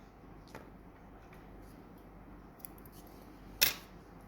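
Scissors snip through yarn once, a brief crisp cut standing out near the end against a quiet room background, while crocheting a daisy granny square.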